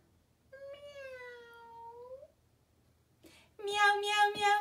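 A human voice imitates a cat meowing, first with one drawn-out, falling mew, then after a short pause a louder, brighter run of quick meows sung close to the microphone.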